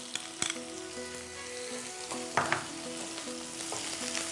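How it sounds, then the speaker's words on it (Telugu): Chopped onion pieces fry in hot oil in a home kitchen pan, a steady soft sizzle with a couple of sharper crackling bursts midway and a faint background hum, no voices. "ఉల్లిపాయ ముక్కలు వేస్తున్నాను"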